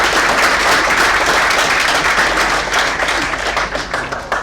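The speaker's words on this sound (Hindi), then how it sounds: "जोरदार तालियां।" An audience at a Punjabi stage play at a theatre festival in Chandigarh claps in a dense, steady burst that starts loud and thins slightly toward the end.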